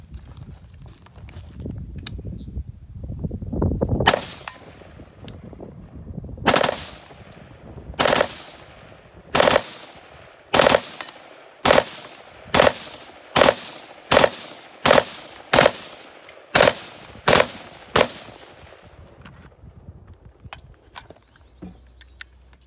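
A Colt select-fire work gun with a Geissele trigger fires about fourteen loud, sharp shots at an even, measured pace after some handling noise, each report cracking close and ringing briefly.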